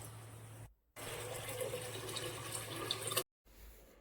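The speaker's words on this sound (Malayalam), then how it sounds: "ഒരു 3 കപ്പ് വെള്ളവും ഇതിലേക്ക് ഒഴിച്ചു കൊടുക്കാം." Water pours steadily for about two seconds into a pressure cooker holding chicken pieces, ginger and half an onion, a close, rushing splash that stops abruptly, with a low background hum around it.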